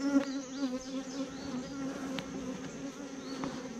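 A captured honeybee swarm hums steadily inside a hive fitted with a propolis trap inner cover, a close, continuous buzz of many bees with a few louder individual fly-bys, and no talking.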